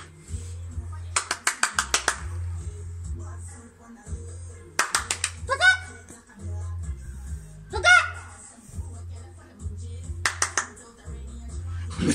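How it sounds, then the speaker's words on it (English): People clap outdoors on a cold evening for the NHS, with short bursts of scattered, fairly distant applause between stretches of nearby talking. "Let's clap for the NHS"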